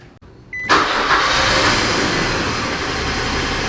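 Engine of an off-road micro RV cranking and catching after a brief clunk, then settling into a loud, steady, rough running roar that continues alone without talk.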